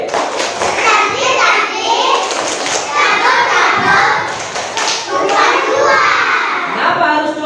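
Children in Indonesian primary class 2C clap a rhythmic class clap pattern together, quick sharp claps mixed with their chanting voices and chatter throughout.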